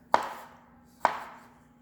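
Two sharp knife chops cut through tomatoes on a cutting board while making pico de gallo, evenly spaced about a second apart, close and distinct with short ringing tails and no voices.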